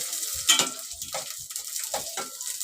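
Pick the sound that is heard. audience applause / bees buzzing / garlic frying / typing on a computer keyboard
garlic frying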